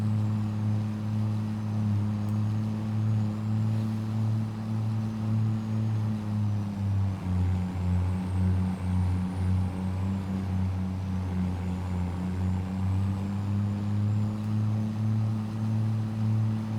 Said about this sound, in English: Rev this Volvo out. It sounds good.